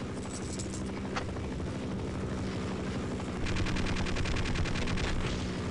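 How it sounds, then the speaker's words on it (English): A helicopter's rotors thump steadily in the video game Half-Life: Opposing Force, the rhythm loud and rapid, and bursts of gunfire mix in around it, with no talking. "Please tell me that's a friendly helicopter."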